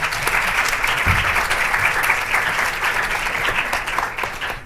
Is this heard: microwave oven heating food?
no